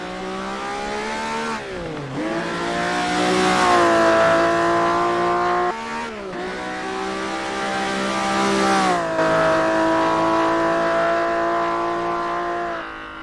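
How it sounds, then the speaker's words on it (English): A car engine in the racing game Assetto Corsa revs loudly and up close, climbing in pitch, then dropping into a burbling off-throttle note before rising again. "Oh, that off-throttle sound is really nice."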